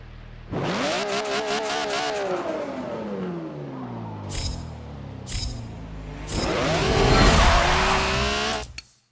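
An untuned rear-wheel-drive car in a racing video game launches on a drag run, its engine revving hard and climbing through gears in loud rising sweeps, with brief tire squeal and a final burst of acceleration.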